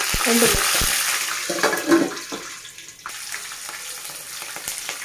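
Peanuts and roasted chana dal fry in hot oil for poha, with sizzling and bubbling, stirring scrapes and a few clinks up front that fade to a softer crackle.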